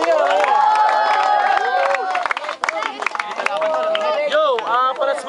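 A crowd at a rap battle cheers and shouts in loud, dense, overlapping voices, with whoops and clapping rising and falling throughout.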